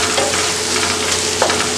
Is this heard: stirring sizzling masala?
yes